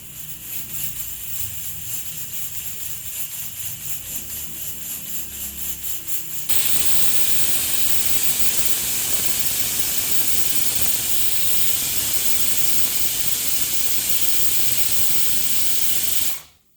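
A pressure cooker whistle, cooking tomato rice, shrieks with a loud, steady hiss of escaping steam that suddenly intensifies and holds for about ten seconds before cutting off.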